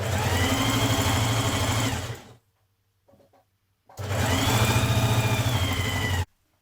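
A sewing machine stitches around the bottom flounce of a skirt for a Burda 6060 dress, two steady close bursts of humming motor and needle whir separated by a short quiet gap.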